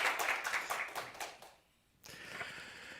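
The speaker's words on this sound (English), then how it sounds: "cheer you on with our collective applause." An audience applauds at the European Solar Prize award ceremony, fairly faint and distant, with a steady patter of clapping that drops out briefly and then resumes.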